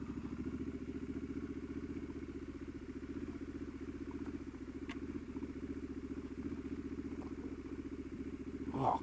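Triumph Street Scrambler 2018 motorcycle rolling slowly, a steady low engine drone running throughout, close and even, with a slight rise near the end and no talk.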